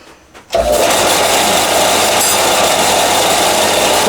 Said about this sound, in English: today we're going to use this sander here to deburr those other stainless steel pieces I just cut